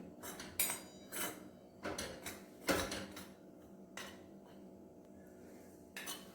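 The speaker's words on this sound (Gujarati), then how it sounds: "શેકતી વખતે છે લોટને સતત હલાવતા રહેવાનું છે" A spatula scraping and tapping a pan while gram flour is stirred and roasted on the stove, irregular clinks and scrapes, fairly close, with no talking.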